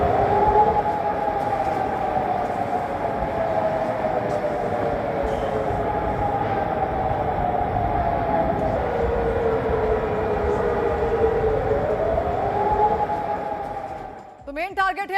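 A wailing siren rises and falls in long slow sweeps, steady and fairly loud, with a rumbling background beneath it.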